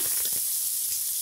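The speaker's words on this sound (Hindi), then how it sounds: "ये गया हमारा हींग इसमें" Asafoetida (hing) hits hot oil in a pan for a green chilli pickle, giving a brief, steady, close hiss of frying and steam.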